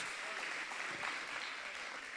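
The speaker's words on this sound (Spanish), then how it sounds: "Dele un aplauso fuerte a nuestro Señor Dios" Congregation applauding in church: a steady, dense wash of clapping that holds at an even level for about two seconds, fairly faint and diffuse, with no distinct voice rising above it.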